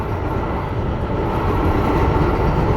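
An MBTA Green Line light-rail train near Brookline rumbles loudly and steadily close by, a continuous low roar of wheels and motors with no voices.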